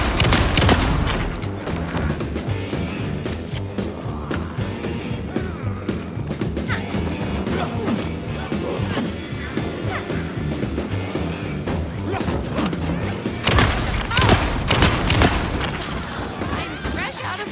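Repeated gunfire in the video game Alan Wake 2 during a Night Springs episode, a dense burst of shots over a rumbling, music-laden game mix, with a sharper volley near the end; voices speak in the background.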